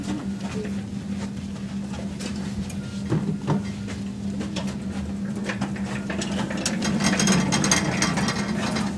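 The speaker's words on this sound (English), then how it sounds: "You put the used propane bottle into the machine and it sucks out all the leftover propane" A propane bottle recycler machine runs steadily, a low mechanical hum with ratcheting, clicking gear noise that grows louder and busier toward the end, with no talking.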